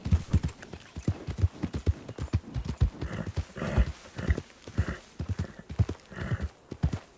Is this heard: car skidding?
no